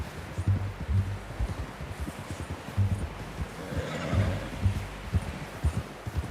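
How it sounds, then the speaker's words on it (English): In the Red Dead Redemption 2 video game, a horse gives a clear neigh midway through, heard over soft rhythmic hoof clip-clops and low rumbling background noise. "How's that new horse?"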